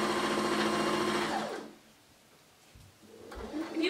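A sewing machine runs a steady back stitch through layered fabric for a 3D Christmas tree, loud and continuous, then stops; after a pause of quiet handling the motor starts whirring again.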